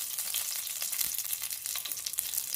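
Raisins frying in a pan of hot fat after cashews, a steady, dense sizzle with light crackle, close and continuous, no voices.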